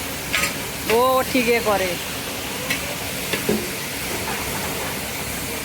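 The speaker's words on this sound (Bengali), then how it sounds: "এখন চিকেনটা কষা চলছে।" Chicken sizzling and being stirred in a hot pan, with a steady frying hiss, scraping stir strokes, and a short spoken remark over it.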